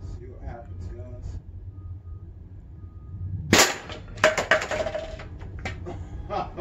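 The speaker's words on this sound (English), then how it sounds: "the round went straight through the bowling ball on that shot" An air gun shot at a bowling ball gives a sharp crack partway through, followed by a couple of clattering impacts, with low background rumble before it.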